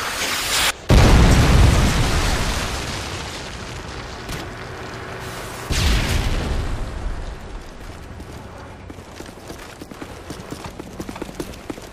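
A Predator missile strike in Modern Warfare 2 on the Fuel map: a sudden loud blast, then a second heavy boom a few seconds later, each followed by a long rumbling decay with scattered crackles.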